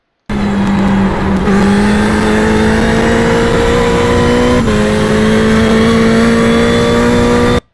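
A race car accelerates at full throttle at Virginia International Raceway, its engine note loud and steadily climbing in pitch, with a brief dip at a gear change before it keeps rising, heard close up from onboard.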